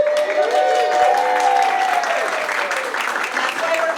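Audience applause for the new superintendent of Pajaro Valley Unified School District at a State of the District event, a steady wash of clapping running the whole time with a voice speaking over it.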